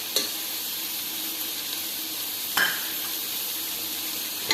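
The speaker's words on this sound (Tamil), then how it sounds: "நம்ம கட் பண்ணி வச்சுருக்க வெஜிடபிள்ஸ் எல்லாம் சேர்த்து வதக்கலாம்" Chopped vegetables sauté in a pan for veg pulao, a steady close sizzle broken by two or three brief utensil knocks against the pan, with no talk.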